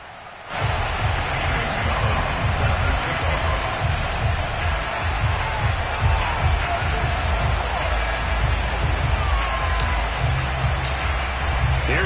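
Video game crowd ambience of a Baltimore stadium crowd at M&T Bank Stadium in Madden 22, Ravens against Panthers: a steady, dense roar of cheering that holds evenly throughout, with scattered whoops rising above it.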